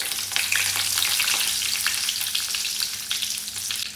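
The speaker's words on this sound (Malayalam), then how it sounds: "കടുക് പൊട്ടുന്നുണ്ട്." Mustard seeds and curry leaves splutter and crackle in hot oil, a dense, steady sizzle with sharp pops throughout, close and fairly loud, with no talking.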